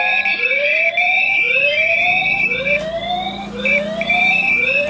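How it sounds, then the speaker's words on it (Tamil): A Thinkwill 4G linkage CCTV camera sounds its built-in alarm, a loud repeating rising electronic whoop cycling roughly every second, close and continuous with no talk. "இதோட அலாரம் சவுண்டு பார்த்துட்டு பாருங்கள்."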